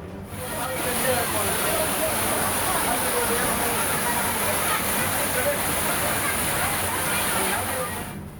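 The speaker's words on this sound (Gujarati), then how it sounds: "પગથિયા પરથી પાણી વહેવા માંડ્યું" Rainwater rushes and splashes down temple steps after heavy rain, continuous at a loud, even level, a dense steady roar that fades slightly at the end.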